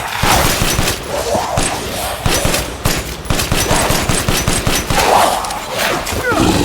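Rapid bursts of gunfire ring out in the video game Resident Evil Village, loud and dense, with repeated sharp shots over several seconds.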